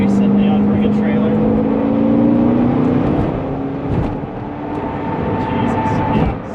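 A 2008 Corvette C6 Z06 in Jet Stream Blue accelerating hard up to 80 mph, its engine note rising steadily and loud from inside the cabin, with someone talking over the roar.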